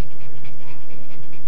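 A dog, anxious from fireworks or thunder in South Florida, pants rapidly and steadily at close range, a loud and even rhythm of short breathy huffs with nothing else heard.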